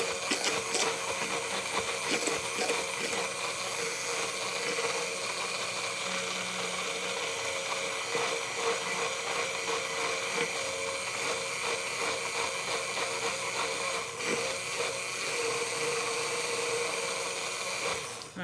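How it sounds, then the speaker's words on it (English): An immersion blender whirs steadily while emulsifying oil and egg into mayonnaise, a loud continuous motor drone with a gritty, churning texture that holds for the whole stretch without pause. "you need to force it to emulsify with the immersion blender"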